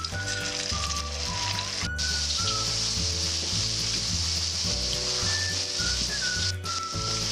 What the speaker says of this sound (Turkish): Kızdırdığım yağın içine hazırladığım patates köftelerini bırakıyorum.